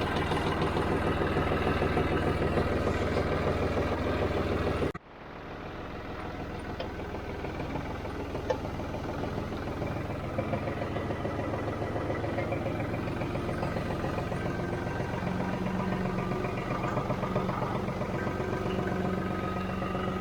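A John Deere tractor engine on a farm runs at a steady, loud idle. Its even rumble breaks with a sharp drop just before the five-second mark, then settles back into a continuous idle with no voices.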